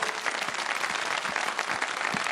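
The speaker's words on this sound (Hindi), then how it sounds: "अरहम के लिए बहुत सारी तालियां बजा दें अरहम के लिए भाई।" A studio audience at a children's television segment breaks into brisk, continuous applause, dense and evenly loud throughout the short stretch.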